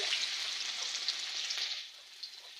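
Chopped onions sizzle in hot oil in a pan while dal is being prepared, a steady bright frying hiss that softens slightly toward the end, heard close and without talk.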